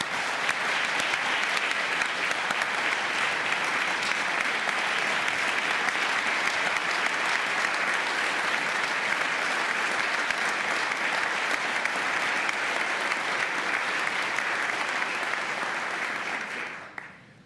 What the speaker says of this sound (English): I hope you'll join me in a round of applause for our state workforce.